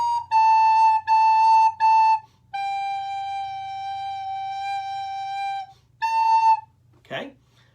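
A recorder plays the top line of a simple piece: three short repeated notes, then one long held note and a final brief note, clear and close over a faint low hum. A short voiced sound follows at the end.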